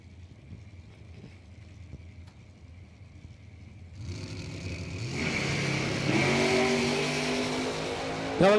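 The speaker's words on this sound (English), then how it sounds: "Glatt, left lane, 2020 Miller. Big huffer on there, 447 a dial, 555 for Brian Source and his Roadster" Supercharged drag race cars at a drag strip: engines idling, then rising into a loud, building roar as they launch and accelerate away, with wind noise and no talking.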